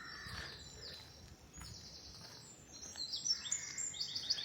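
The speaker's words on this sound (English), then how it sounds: "It's that song thrush again." Clear song thrush song with bright, repeated high phrases, strongest toward the end, over a soft outdoor background hum on the Isle of Wight Undercliff.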